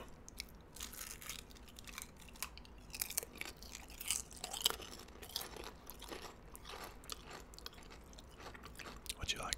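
Crunchy, close-up chewing of Lay's potato chips eaten with a PB&J sandwich, with repeated crisp bites and mouth sounds throughout, in an intimate quiet setting.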